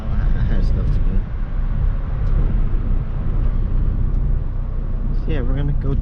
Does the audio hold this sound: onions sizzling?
no